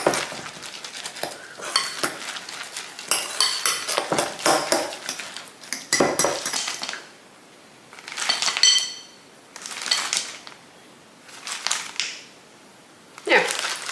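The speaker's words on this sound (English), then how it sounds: "Just mix that up really well." Utensil stirring and scraping batter in a bowl, with intermittent clinks and scrapes in bursts separated by short pauses, fairly close and moderately loud, for a blueberry bake.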